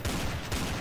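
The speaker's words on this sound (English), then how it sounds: "Oh, I hear gunfire." Gunfire in the video game Counter-Strike: Source, two sharp, loud shots about half a second apart with booming low tails, no talk over them.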